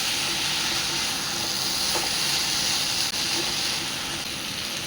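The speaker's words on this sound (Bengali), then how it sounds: "একটুখানি ভেজে ভেজে একটু টাইম নিয়ে এবার নাড়াচাড়া করতে হবে" Beetroot and carrot curry frying in a pan gives a steady, close sizzling hiss that runs throughout, with a few faint scrapes from stirring.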